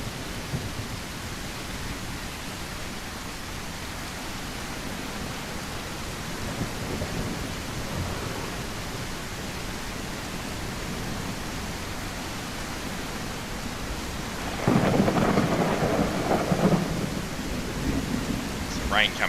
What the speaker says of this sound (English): As the rain comes down, I'll just adjust the sound level for you guys.